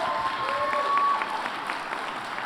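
Audience applause at a civics bee event held at a presidential library, a dense wash of clapping from a crowd at moderate level, steady across the whole moment with a faint tone running underneath.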